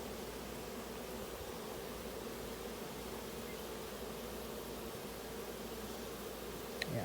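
Honey bees swarming in a backyard during a mating flight, with many queens from about ten colonies and mating nucs in the air: a steady, dense, faint hum that continues evenly throughout with no voices.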